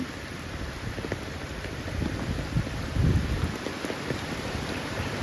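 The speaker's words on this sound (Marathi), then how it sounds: "काही पाऊस आल्याने सगळे आता भिजले" Steady rain falling outdoors over farm fields, with low rumbling swells like distant thunder building in the middle, a continuous wash of noise and no voices.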